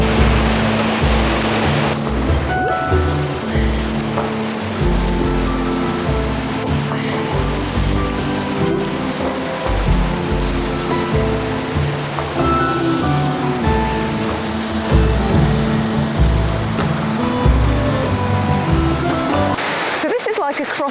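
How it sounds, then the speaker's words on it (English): Several woodland waterfalls near Sheffield send a steady broadband rush of falling water, close and continuous, with a person talking over the roar throughout. "Just waterfall after waterfall."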